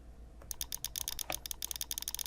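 Fast typing on a computer keyboard, a quick run of crisp, close key clicks in an uneven rhythm over a low steady hum, with no talking.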